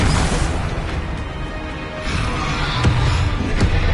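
Spell-casting effects from a Harry Potter video game: a run of booming magical blasts and whooshing bursts, loud and close, with sharper impacts punctuating the last couple of seconds.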